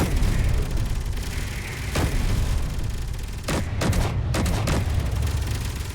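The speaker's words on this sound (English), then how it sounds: "turn these turrets on to shoot missiles" Space Engineers base turrets firing at incoming missiles, a handful of sharp loud shots, several clustered closely near the end, over a continuous low mechanical hum.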